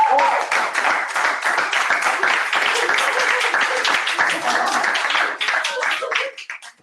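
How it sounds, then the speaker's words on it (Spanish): A debate-final audience at ESADE claps loudly for the team, dense close applause that stays strong before thinning into scattered last claps and fading out. "si nos damos un fuerte aplauso"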